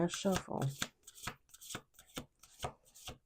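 Close playing cards shuffled in quick riffles, sharp fluttering bursts coming in a steady series, with a brief voice near the start.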